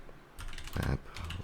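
Typing on a computer keyboard, a brief flurry of close, soft key clicks, with a louder burst in the middle.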